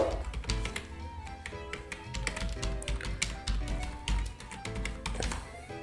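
Typing a password on a computer keyboard: a steady run of close, crisp key taps at an uneven quick rhythm, fairly quiet, with no talking.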